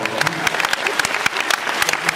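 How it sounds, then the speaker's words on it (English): Audience applause at a Comic-Con 2008 Supernatural panel, dense close clapping throughout, loud and continuous without speech. "I was fishing for applause."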